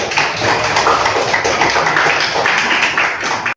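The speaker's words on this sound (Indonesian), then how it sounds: "kita kasih aplaus dulu untuk kelompok yang tadi ke depan" Audience applause for student groups who presented in a classroom lesson, a dense, steady patter of many hands clapping close by, sustained evenly for a few seconds before stopping abruptly.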